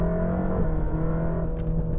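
A flat-plane crank car engine runs at a steady, loud idle with a smooth, even drone and a slight rise in revs midway.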